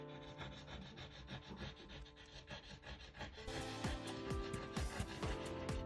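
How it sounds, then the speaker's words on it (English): A tool scratches black paint off a scratch board in light, repeated rubbing strokes, close and fairly quiet. The scraping grows slightly busier and sharper in the second half, with no talking. "you're just lightly scratching the surface of the black paint off"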